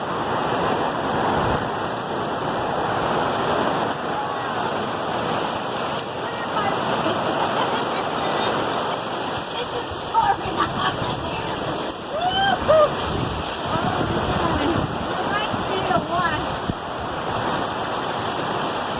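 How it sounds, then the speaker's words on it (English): Heavy rain pours down steadily at the Pla-Mor campground in Bremen, Indiana, a dense continuous hiss with a few faint knocks and muffled voices beneath it. "It's a lot of water coming down."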